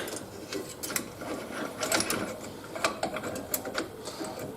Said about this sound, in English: Now that's all the way compressed, we just unscrew our tool